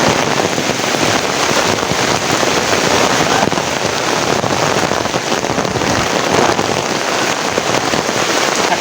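Heavy rain pours down steadily and loudly, a dense, unbroken hiss of drops striking surfaces close by.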